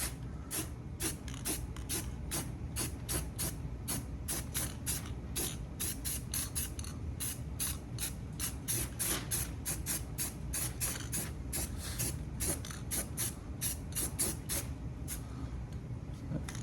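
Rapid bursts of spray paint hiss in short, evenly paced pulses over a steady low hum as a Trans Am fender is painted, fairly close and with no talking.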